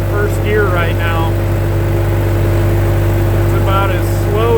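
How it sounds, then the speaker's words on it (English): A tractor engine runs in first gear while hauling logs with a Vermeer, a loud steady low drone throughout as someone talks over it. "I'm actually running this tractor in first gear right now."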